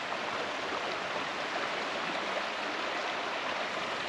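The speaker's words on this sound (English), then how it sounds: "you like to sleep to the sounds of moving water" A creek flows beside a cold-weather bushcraft campsite, a steady, even rushing hiss of moving water with no breaks, moderately faint and alone.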